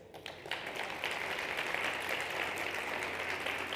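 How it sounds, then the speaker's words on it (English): Audience applause for the contestants at the Catalyst Stage of South Summit 23, a fairly soft, steady wash of clapping from a sizeable crowd, continuous throughout. "Ladies and gentlemen, a big round of applause for our contestants."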